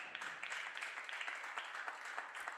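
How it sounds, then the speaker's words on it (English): A crowd at a 10-ball pool match gives a round of applause, with soft, steady clapping that sounds distant and faint. "A round of applause there."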